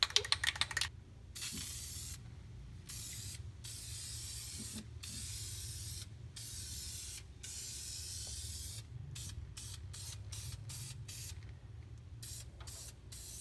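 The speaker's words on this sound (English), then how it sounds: "And now the self-etching primer." Self-etching primer sprayed from an aerosol can onto a rusty, repaired Toyota pickup truck frame, a steady close hiss running in repeated bursts with short pauses between passes, no talking.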